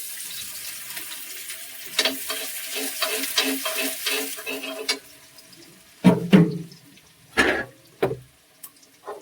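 Chopped garlic dropped into hot refined oil in a pan: a continuous crackling sizzle with rhythmic stirring scrapes, followed by several louder, separate bursts of spattering and clatter, close and prominent with no talking.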